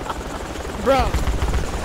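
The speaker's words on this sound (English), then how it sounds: "come on, shoot the fucking chopper" A helicopter in the military game Project Reality hums as a low, steady rotor drone beneath a man's brief, loud speech.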